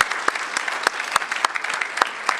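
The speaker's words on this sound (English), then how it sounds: "let's give them one last round of applause" An audience at a Women's History Month celebration gives a closing round of applause, a steady wash of clapping with a few sharp, distinct claps standing out close by at regular intervals.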